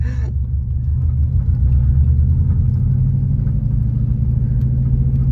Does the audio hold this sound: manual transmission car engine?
yes